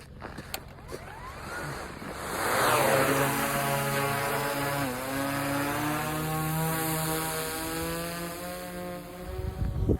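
A drone flies a grid mapping mission, its propellers whining in a loud steady buzz that rises as it lifts off and climbs away, pitch bending as it turns, with a few clicks at the start.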